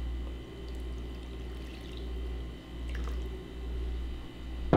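Filtered water pours into an essential oil diffuser's reservoir, a soft continuous trickle and splash with a few drips, close and quiet under a low steady hum.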